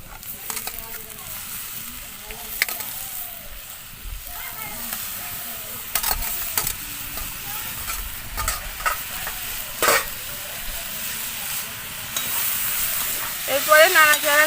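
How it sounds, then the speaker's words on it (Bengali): Boiled drumstick flowers with potato and onion fry in a pan, a steady sizzle broken by repeated scraping stirs of a spatula, close up, with occasional faint speech in the background. "এরপরে নাড়াচাড়া করে আমি ভালোভাবে সব কিছু ভেজে নেব"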